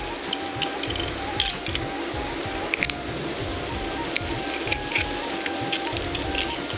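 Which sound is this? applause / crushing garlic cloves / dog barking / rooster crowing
crushing garlic cloves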